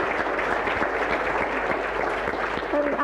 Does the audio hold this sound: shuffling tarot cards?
no